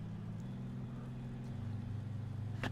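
Twin piston engines of a Grumman G21 floatplane in FSX, a steady low droning hum with a slight shift in pitch partway through, continuous and moderately loud with no talk over it.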